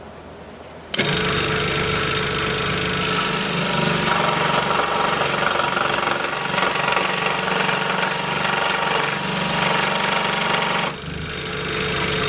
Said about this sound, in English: Okay, we're going to cut those corners that we marked